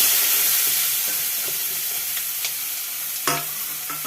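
Onions sizzling in oil with turmeric in a pan, a loud dense frying hiss with occasional stirring scrapes and clicks, steady throughout with no voices.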